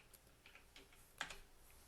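Quiet typing on a computer keyboard, a few soft, irregular key clicks close by with one sharper tap, no talking.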